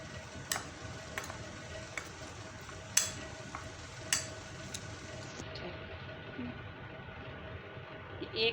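Chicken being stirred with tikka masala for marination, soft scraping and a few sharp clinks of a spoon against a bowl at irregular intervals, close and quiet.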